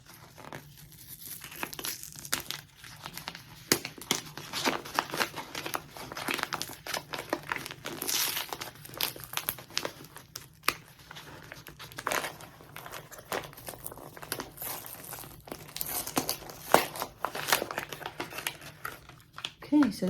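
Advent calendar being opened, with close crinkling, crumpling and tearing of paper or packaging in irregular bursts, and brief speech mixed in.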